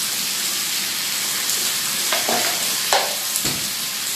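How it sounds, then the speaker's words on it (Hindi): Potatoes fry in a pan with a steady, dense sizzle, broken by a few brief scraping stirs near the end; no one speaks. "आलू बड़े मज़े से फ्राई हो रहे हैं।"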